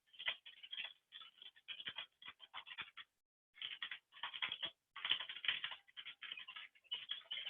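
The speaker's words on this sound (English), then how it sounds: "So I'm going to type something in here." Someone types on a computer keyboard, with quick, close bursts of clicking keys broken by brief pauses, alone and fairly quiet.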